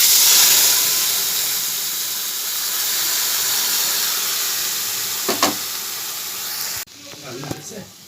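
Spices sizzle and hiss in hot oil for a potato and pointed gourd curry, a loud bright frying crackle that fades slightly, then drops sharply near the end as utensils clink and a voice speaks.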